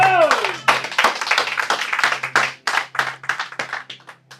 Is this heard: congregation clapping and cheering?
yes